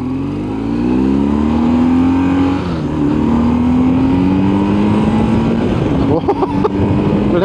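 A BMW R1150GS motorcycle engine revs up steadily through the gears, a loud close drone rising in pitch with brief dips at shifts and no one talking.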